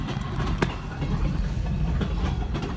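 A freight train on the Maryland Midland rumbles past close by with a continuous heavy roar and occasional rattling clanks, loud and steady throughout.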